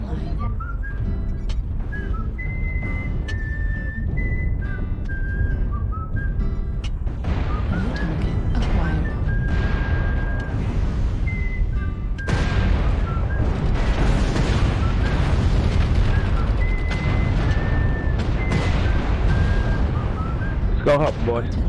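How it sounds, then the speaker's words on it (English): Artillery strike in the MechWarrior Online video game: steady battle noise with descending whistles of incoming shells and rumbling blasts, loud and continuous throughout. "Artillery strike."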